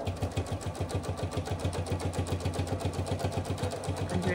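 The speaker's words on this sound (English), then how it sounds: "I'm doing a little bit of back stitching there at the end" Sewing machine back stitching at the end of a seam on a fabric face mask, a fast, steady mechanical chatter with an even rapid rhythm, close and continuous throughout.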